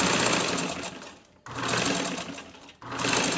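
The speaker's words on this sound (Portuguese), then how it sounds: "Vou tentar costurar bem devagar pra vocês poderem entender." A sewing machine stitches fabric slowly in close, loud runs of rapid mechanical whirring, pausing twice briefly between bursts, with no talking.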